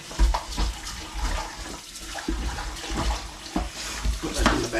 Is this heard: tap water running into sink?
yes